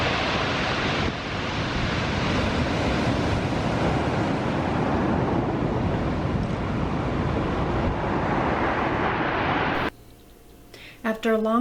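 Ocean waves on the Peru coastline wash in a loud, continuous roar of surf and breeze for about ten seconds, then break off into a quieter stretch where a voice briefly sounds.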